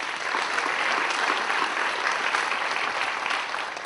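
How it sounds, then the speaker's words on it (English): A roomful of people clapping in sustained, even applause at a Young Game Changers event, loud and dense throughout before easing slightly at the close. "I think Jeff deserves a round of applause for all he's done"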